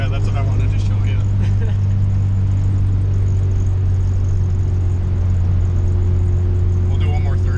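Honda car fitted with Camaro fuel injectors revving hard in third gear, a steady loud engine drone with a strong low hum running throughout, close up with no clear breaks.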